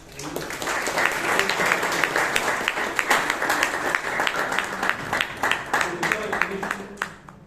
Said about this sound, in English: let's give a big round of applause for all the speakers who came and did